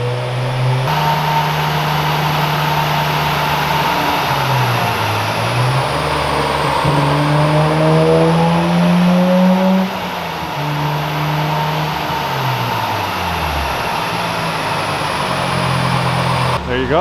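A car engine under strain, droning loudly and steadily as it rises and falls in pitch, with repeated attempts to climb toward full throttle held back, and people talking over it.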